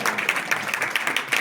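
Audience applause breaking out at a live comedy stage show in Maharashtra, a dense wash of clapping that stays steady and fairly close throughout, with no speech over it.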